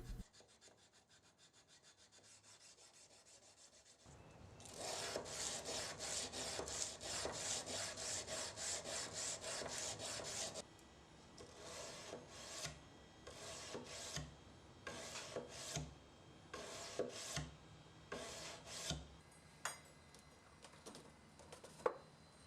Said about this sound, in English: I'll hand sand the knife from 220 grit to 400 grit